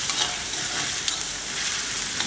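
One large, finely chopped onion sautés in a pan with a steady, close hiss of sizzling oil and no voices.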